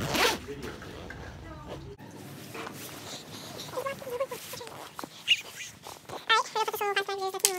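A plastic bag is zipped shut around a phone indoors, giving bursts of scratchy zipper rasping among rustling, with people talking nearby.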